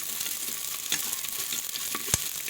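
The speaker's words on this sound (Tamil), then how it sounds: "பூண்டு உரிச்சு வச்சோம்ல, அதுவும் முழு வெங்காயத்தையும் சேர்த்து போட்டு வதக்குவோங்க" Peeled garlic and whole onions sautéing in a pan for a village-style greens-stem and dried-fish curry, a steady close sizzle with a few sharp scrapes and clinks from stirring.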